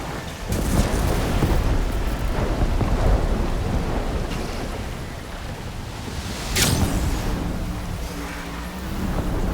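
Thunderstorm in the game Horizon Forbidden West, with steady heavy rain and rumbling thunder throughout and a sharp, loud thunderclap crashing in near the middle, untouched by any voice.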